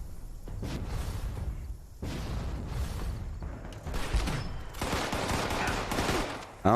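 Gunfire in the Fallout 76 video game comes as dense bursts of rapid shots in several clusters, loud and close, with dull impacts under the volley.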